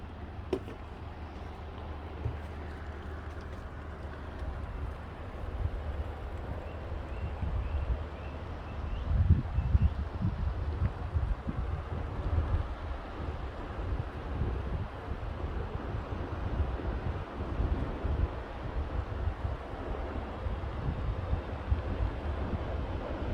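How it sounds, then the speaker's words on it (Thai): Water pours out of a dam in a steady, low roaring rush, a continuous broadband wash that swells slightly midway, heard from nearby with wind buffeting the microphone and no talk. "เบิ่งน้ำเสียงน้ำไหลออกจากเขื่อน"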